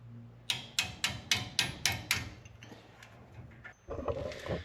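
Hammer taps on a brake caliper part of a first-generation Toyota Tacoma: about eight sharp, evenly spaced metallic strikes close by, followed by softer clatter and shuffling.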